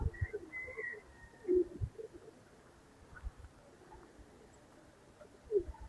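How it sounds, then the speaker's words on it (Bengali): A male pigeon coos softly in a loft among newly bought birds, a few low throaty coos spaced out over faint background rustle and bird calls, fairly quiet with no talking. "নর কবুতর।"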